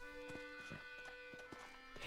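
Horse hooves in Red Dead Redemption clop in a steady trotting rhythm, faint and even, beneath a sustained musical drone.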